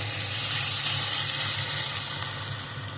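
Vegetables for Bengali sukto bubbling in water in a pot make a steady, fairly loud hissing, steamy rush that swells slightly and then eases, heard up close with no talk.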